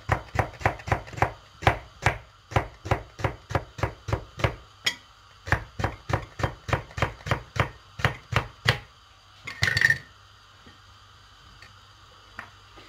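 Knife chopping food on a cutting board for a chocolate crepe dessert, a quick run of about twenty-five sharp, evenly spaced taps close up, a brief clatter, then near silence.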